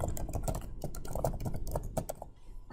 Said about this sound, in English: I'm just going to type here my name